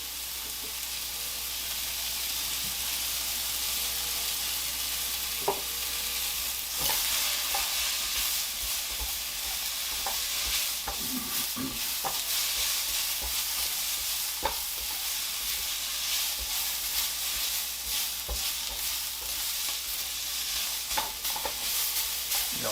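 Onions for Texas chili sizzle and fry hard over high heat, a steady loud hiss running throughout with occasional stirring clicks and pops.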